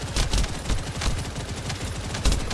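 Rapid automatic weapon fire with heavy recoil in the shooter game The First Descendant, a dense stream of close, loud shots with a few sharper bursts standing out.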